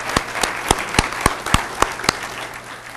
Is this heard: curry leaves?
no